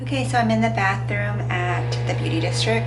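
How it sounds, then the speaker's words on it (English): Bathroom extractor fan running in a beauty salon, a constant low steady hum beneath someone talking close to the microphone. "Sorry about the fan."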